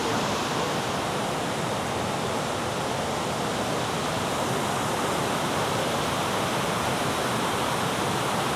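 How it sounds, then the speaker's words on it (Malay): Waterfall near Sungai Kenerong roars as a steady, loud broadband rush of falling water, continuous and unbroken throughout with no voices. "Dia punya air terjun tu memang cantik."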